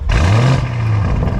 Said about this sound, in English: Urus Esteso with the Novitec exhaust system and straight into your freaking ridiculous mode. This one is all about the exhaust.